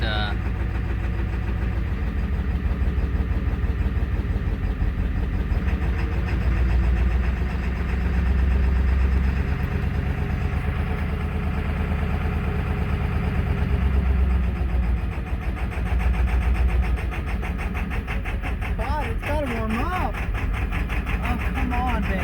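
A 2001 Ford F250 7.3L turbo diesel with 304,000 miles runs roughly just above idle, giving a steady low rumble that wavers and surges at times under voices talking nearby.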